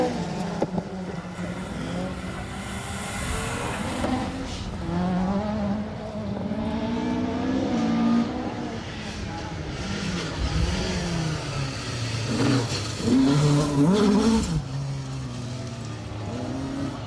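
A Mitsubishi Evo 4 rally car on a stage of a circuit rally accelerates hard, engine revving up through the gears with rising and falling pitch, loud and close throughout with no talk.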